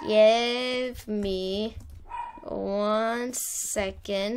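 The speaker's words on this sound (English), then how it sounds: "my dogs are gonna start barking again" Pet dogs bark and yip repeatedly in short insistent bursts close by, mixed with whimpering, while a person talks over them.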